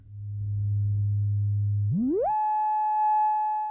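A steady low sine tone from a Dataton System 3000 filter in sine wave mode holds, then glides smoothly upward to a higher pitch and sustains there, clean and loud.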